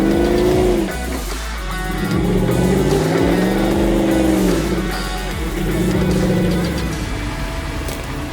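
Loud engine revving hard on an off-road track, the pitch sweeping up and down as the car accelerates and eases off, close and continuous with no voices.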